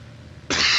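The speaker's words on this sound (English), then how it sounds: "I can feel another cough coming" A single harsh cough bursts in halfway through, loud and close to the microphone after quiet room tone, with no talking.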